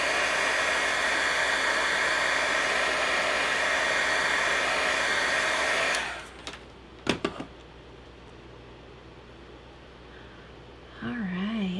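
Heat tool drying a no-line watercolored slimline holiday card, a loud steady blowing roar for about six seconds that cuts off, followed by a few sharp knocks and quiet room sound.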